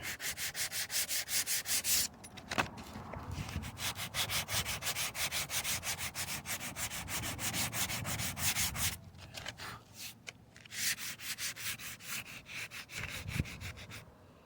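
Bondo body filler on a car being sanded by hand with 40 grit sandpaper, a steady rapid rasping back-and-forth scrub, close and continuous with brief pauses before the strokes resume.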